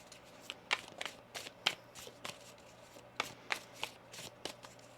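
Quiet, crisp riffling and tapping of a tarot deck being shuffled, with a series of sharp flicks at an uneven pace.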